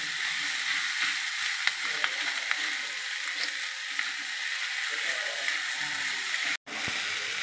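Asafoetida hits hot oil in a pan for a four-vegetable poriyal and sizzles, a steady close frying hiss with light clicks that cuts out briefly near the end, then resumes.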